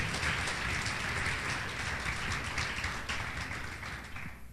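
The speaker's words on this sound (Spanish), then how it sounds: "Dele un aplauso al Rey." Congregation at a church service applauding for the King, a dense, sustained round of clapping from many hands that stays loud throughout and tapers slightly at the end.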